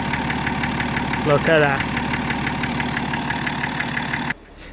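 A BMW E90 330d diesel engine idles steadily and loudly up close, a continuous rumble with a rhythmic ticking pulse, while a person briefly talks over it before it cuts out near the end.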